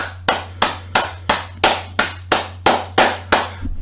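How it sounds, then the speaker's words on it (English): A single person claps close to the microphone, about ten crisp, evenly spaced claps over a steady low hum. "So I want to give my grandma a little shout and a little round of applause."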